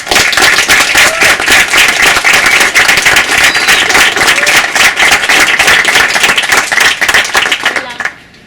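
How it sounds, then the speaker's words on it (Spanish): Warm audience applause for a speaker at a startup event in Medellín: loud, close, sharp individual claps forming a steady burst that continues for several seconds and then cuts off abruptly near the end. "Démosle un caluroso aplauso a Margarita."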